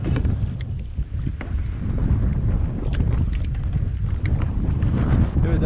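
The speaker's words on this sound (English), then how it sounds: "We're just hoping for this wind to calm down just a little bit." Steady wind buffets the microphone on a lake while fishing from a kayak, a constant low roar with faint water lapping and small knocks against the boat, no speech.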